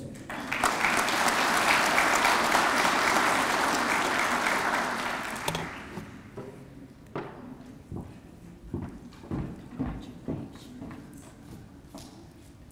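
Loud, dense applause from an audience at a high school academic awards ceremony honoring top graduates, sustained for about five seconds before fading into scattered claps and thuds.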